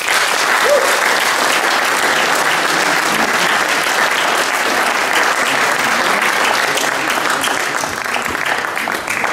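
A crowd at a political campaign event applauds loudly and continuously, dense clapping that holds steady for several seconds and tapers only slightly at the end.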